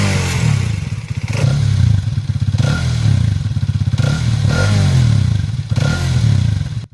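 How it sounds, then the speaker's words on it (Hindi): A Bajaj Xtreme 250R motorcycle with a DOHC engine runs loud and close, idling with a steady rhythmic thrum and light mechanical clatter, with a few slight swells in revs and no talking. "आप एक बार एक्सट्रीम 250R का इंजन साउंड सुनो, जो सेम DOHC सेटअप के साथ आता है।"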